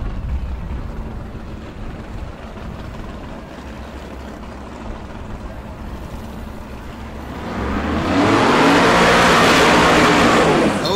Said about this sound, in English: The 2010 Camaro, 582 cubic inches of big block with some nitrous.